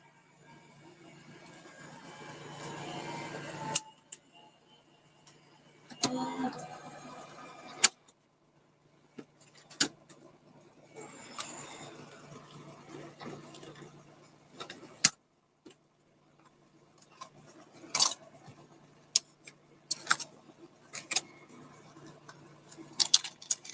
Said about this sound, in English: I'm just gonna stick this through our die machine, and that will build the base of our